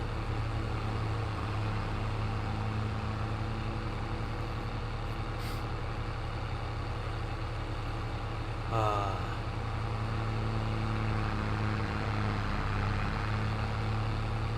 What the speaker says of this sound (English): this tractor is a loud tractor.